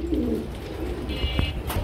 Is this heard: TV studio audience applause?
no